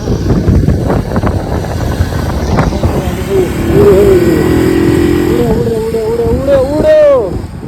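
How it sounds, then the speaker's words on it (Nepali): Motorbikes ridden along a road on the way to a wedding, their engines droning and revving steadily up close, with wind buffeting, a horn-like tone near the end and people talking over the noise. "र आज चाहिँ हामी बाइकमा जाँदैछौँ यसरी सबैजना"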